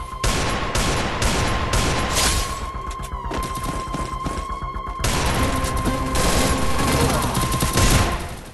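Desert Eagle pistol shots ring out in the mobile shooter Free Fire, part of dense, loud, continuous gunfire with overlapping bangs and a steady tone underneath.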